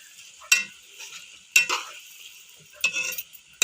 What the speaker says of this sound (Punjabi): ਇਹਨਾਂ ਨੂੰ ਹੁਣ ਹਲਕੀ ਆਂਚ ਤੇ ਨਾ ਹਲਕੇ ਹੱਥ ਦੇ ਨਾਲ ਹਿਲਾਈ ਜਾਣਾ ਵਾ ਤੇ ਇਹਨੂੰ ਪਕਾਈ ਜਾਣਾ ਵਾ